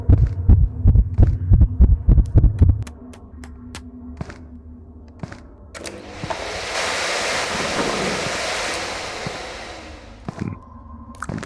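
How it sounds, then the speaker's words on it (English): Slow, heavy heartbeat thumps pulse loud and close in a horror video game, a steady run of low double beats that stops, giving way to a deep hum and a swelling wash of rushing noise, with sparse clicks throughout. "Why is my heart beating?"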